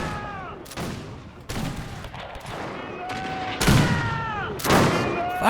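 Rifle volleys in the Zulu Total War mod battle at Rorke's Drift: several sharp, loud massed gunfire bursts at irregular intervals, each with a crackling tail, over battle ambience and faint whistling tones.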